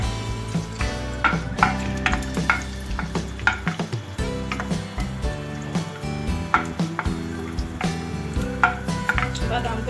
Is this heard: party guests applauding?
no